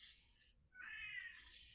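A cat with a hole through its injured ear, torn in a fight with another cat, gives a single drawn-out meow, faint and fairly close, amid quiet background noise.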